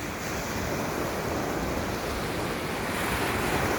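Sea waves wash steadily onto the beach at Hua Hin, a constant loud broadband surf with some wind noise across the microphone and no talking.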